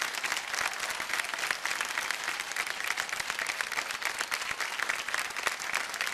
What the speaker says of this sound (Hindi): जोरदार तालियां बज जाए इनके लिए